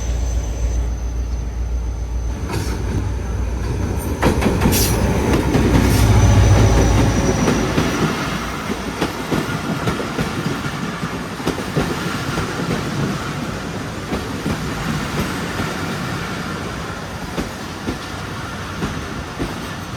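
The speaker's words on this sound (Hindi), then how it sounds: "सामने से भी एक अलग ट्रेन आ रही है काफ़ी अच्छी स्पीड में" An express train passes at speed on a railway line on the Mirpurkhas to Karachi route, a continuous loud rumble with rhythmic wheel clatter and occasional squeals, heard close by for the full length.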